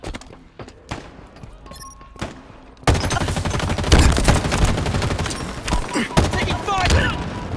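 Gunfire in the video game Halo Infinite, scattered single shots at first, then a sudden heavy burst of sustained automatic fire with thuds and impacts, loud and close, with game voice announcements mixed in.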